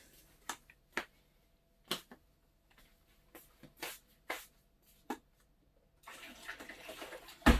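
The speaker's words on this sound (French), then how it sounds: "Je vide mon eau." Cooking water is drained from a Thermomix bowl after carrots are cooked. Sparse sharp clicks and knocks come first, then a short burst of rushing, splashing water at the end.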